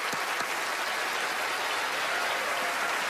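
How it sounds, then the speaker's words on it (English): A live studio audience applauds steadily and fairly loudly at a magic show as volunteers are brought onstage, a dense, continuous patter of clapping with no pauses. "Give him a round of applause."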